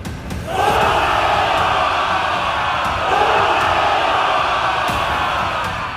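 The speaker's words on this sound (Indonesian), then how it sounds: "Sorakan sisa pengikut Mbah Sabar menggema" A crowd of followers in an Indonesian audio drama cheers loudly, a sustained roar of many voices that swells in twice and holds throughout, with faint sharp clashes in the background.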